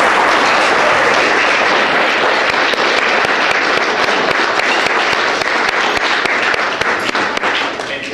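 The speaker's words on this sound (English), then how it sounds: "So if you could all please give them a round of applause" Dinner audience at an awards banquet breaking into sustained applause, dense continuous clapping from many hands filling the room at a steady, loud level for several seconds.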